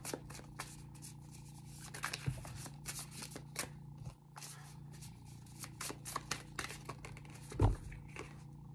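Tarot cards being shuffled by hand up close, soft repeated riffling and flicking bursts with a few louder slaps, quiet and intimate throughout.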